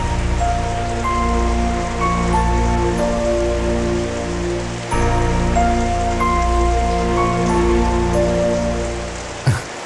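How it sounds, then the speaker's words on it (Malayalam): Heavy rain pours down in a steady, dense hiss that holds for the whole stretch, with a sharp knock near the end and no voices. "നല്ല മഴയാ."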